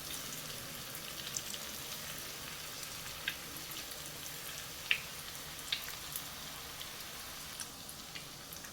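Quiet, steady sizzling of potato cheese balls deep-frying in oil, with occasional small pops and crackles over a soft continuous hiss.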